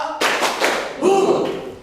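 A class claps in a counted pattern led by a teacher in an Indonesian-language lesson, with a few loud group claps and thumps in quick succession, close and fairly loud.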